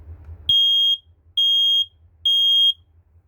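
Three loud, piercing test beeps from a Kidde i9060 smoke alarm, evenly spaced with short pauses between them, after a brief low thump at the start.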